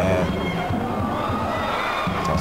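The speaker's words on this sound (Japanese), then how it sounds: "こうしたサポーターからの声援もありましたが" A large crowd of football supporters in a stadium cheers and shouts continuously, a dense roar of many voices filling the space at a steady, loud level.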